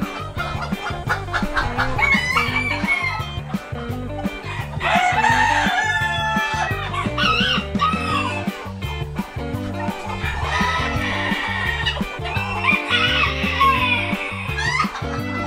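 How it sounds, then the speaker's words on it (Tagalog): Cochin hens cluck and squawk on a chicken farm in the Philippines, with busy overlapping calls near and loud, and a rooster crow among them. "Cochin ball na hen."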